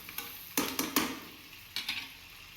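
Green chillies and onions frying in a pan for an egg curry, with a few sharp bursts of sizzling and stirring scrapes at close range, separated by quieter stretches.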